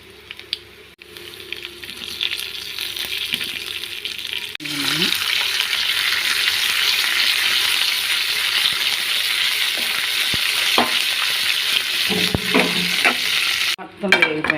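A tempering of coarsely crushed garlic, cumin, mustard seeds and dry red chillies bursts into a loud, continuous sizzle after a quieter start, with occasional spoon stirs and scrapes in the pan and no speech.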